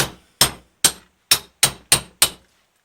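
Seven sharp hammer knocks while fitting an axe head to its handle, close and crisp, in an uneven rhythm with short pauses between strikes, then silence.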